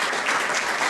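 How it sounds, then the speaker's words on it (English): A crowd applauds, a dense, even wash of clapping hands that holds steady throughout the short moment. "Let's give them a round of applause."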